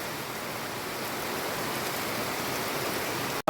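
Heavy monsoon rain pours in a dense, unbroken roar that stays loud and even throughout, with no voices, then cuts off abruptly at the very end.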